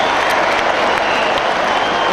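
An Australian football crowd at the Gabba cheers and applauds in a dense, loud, continuous roar, with commentary voices underneath.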